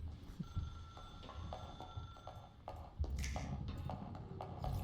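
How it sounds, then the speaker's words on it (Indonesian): A telephone ringing in the video game Once Human, with faint, repeated ringing tones mixed among soft tapping and clicking game sounds at low volume. "Ada telepon."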